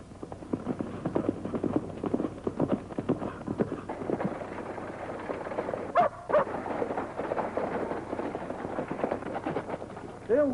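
Horses' hooves clip-clop steadily and fairly close as riders head off into town in an old Western, with brief louder knocks partway through and near the end, no talk.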